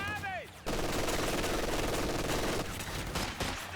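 Rifle grenade launcher fire in Company of Heroes 2, a dense burst of game gunfire and blasts that starts abruptly and rolls on loudly for several seconds, with a voice heard briefly at the start.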